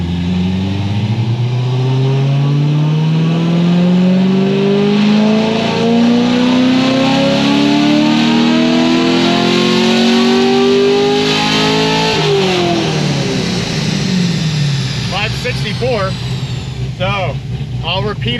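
A stock Chevrolet LS7 V8 with about 104,000 miles screams through a dyno pull, pitch climbing steadily for about twelve seconds, then dropping as it winds down, followed by faint chirping squeals.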